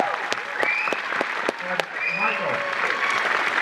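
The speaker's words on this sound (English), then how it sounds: "I would like to just take a brief moment and have a big round of applause" An audience at a film Q&A event claps in a burst of applause that holds steady with sharp individual claps standing out, while a few voices and whoops rise over the clapping.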